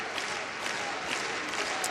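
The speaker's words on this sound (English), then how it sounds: "You can see the Lady Tigers fans on their feet, cheering for Lysandra Barrett." Lady Tigers fans at an LSU women's basketball game against the Lady Vols applaud and cheer, a dense, steady wash of clapping from a large arena crowd for two seconds.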